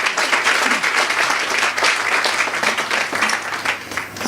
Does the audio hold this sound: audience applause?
yes